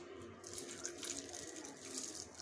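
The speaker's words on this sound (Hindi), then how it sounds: "अब इसमें डालेंगे हम पानी।" Water poured into a container of oats, producing a soft, continuous splashing trickle, faint and steady with no talking.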